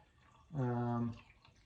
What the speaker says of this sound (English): I'm just going to add water and see if it all leaks right out the bottom